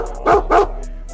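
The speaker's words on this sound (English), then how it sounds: "Still hear that dog in the background whining and shit." Two quick, close dog barks in a row, with a faint whine trailing off afterward.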